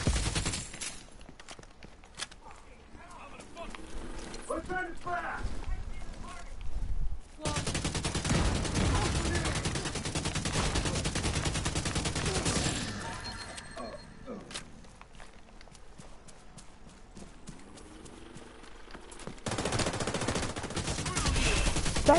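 Sniper rifle fire in a free-aim video game, sharp gunshots scattered through a long stretch of loud game noise with dense bursts of firing, and a voice talking over it.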